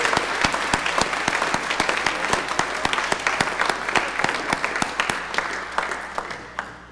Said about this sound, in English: So if you could give a round of applause, please, to Eck, Corgi, and Homie.